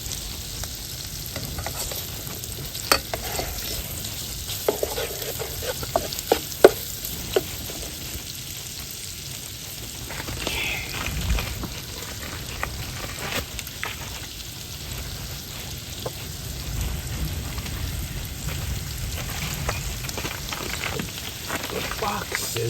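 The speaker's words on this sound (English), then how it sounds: "there's going to be more grease from this sausage" Italian sausage fries in butter in a pan, giving a steady, continuous sizzle and crackle with occasional louder pops, and no talking over it.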